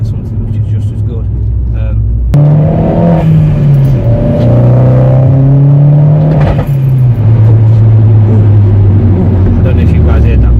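A Vauxhall Corsa VXR engine revs hard and close, with a sharp exhaust pop cutting in early, followed by rising and falling engine tones.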